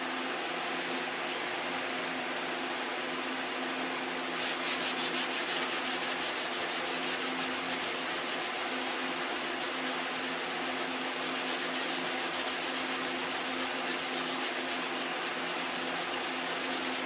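A sander works steadily and closely across a painted surface. Its smooth rubbing turns into a coarser, scratchy rasp as it reaches paint overspray, then keeps a continuous texture.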